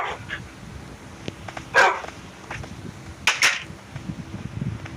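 A dog inside a dog house gives a few short, muffled barks and yips, two clear bursts standing out over low background rumble and faint noise.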